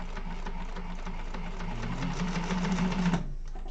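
A domestic sewing machine runs a second row of stitching along a fabric bag, a fast steady mechanical whir with rapid ticking that builds slightly louder before stopping abruptly near the end.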